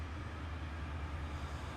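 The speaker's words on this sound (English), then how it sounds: "Oh, hey, train." A diesel locomotive in Trainz Simulator 3, on a German alpine route and hauling empty hopper cars, passes as a steady low engine rumble and broad rolling noise, moderately loud with no voices.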